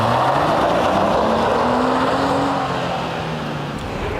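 A Jeep truck drives off-road with a steady engine drone and rough tire and ground noise, close and continuous, the pitch rising slightly as it moves.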